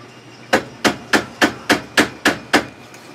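A metal hammer flattens a wire loop for a wind chime ornament with eight sharp, evenly spaced strikes, loud and close, with nothing else between the blows.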